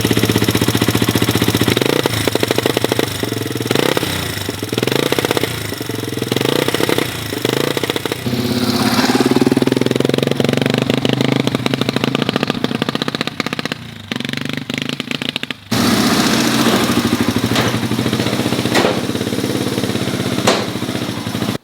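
An old, long-abandoned Yamaha TW200 motorcycle with a gummed-up carburetor runs hot, its single-cylinder engine chugging loudly and steadily close by with uneven blips of throttle throughout.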